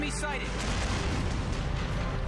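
Explosion as a wall crumbles in the Valkyria Chronicles Remastered war game, a dense, sustained rumbling blast filling the whole moment at steady loudness.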